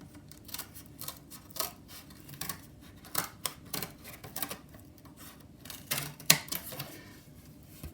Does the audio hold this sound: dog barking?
no